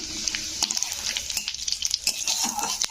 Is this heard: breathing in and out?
no